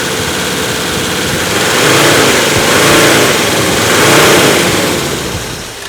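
A car engine idling after a fuel tank purge, a loud, close, steady rumble that swells and eases in slow waves with a slightly uneven, rough character and no voices.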